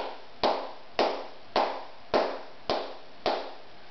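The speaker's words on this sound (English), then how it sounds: "So sordas is just you cupping your hands together to make a muffled sound like this." Flamenco sordas palmas, cupped hands clapping a soft muffled beat: six evenly spaced hollow claps at a steady, moderate tempo, close by and alone.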